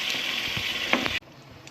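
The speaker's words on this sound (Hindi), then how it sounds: "इसको अच्छे से 5 से 10 मिनट भूनना है जब तक ऊपर इसके ऑयल ना आ जाए।" Chicken with kachnar and yogurt fries and gets stirred in a pan, giving a steady close sizzle with a few scraping stirs before it cuts off abruptly to a quieter hiss.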